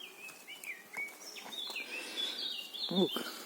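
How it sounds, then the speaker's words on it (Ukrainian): A small bird sings a string of bright, varied whistles and chirps in a birch forest during mushroom picking in Rivne region, Ukraine, heard clearly but not very close against a quiet woodland background. "Ох, як ти пташка десь виспівує гарно."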